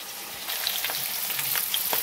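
Potatoes fry in hot oil with a dense, steady sizzle and crackle that swells slightly after a brief quieter start, close and alone.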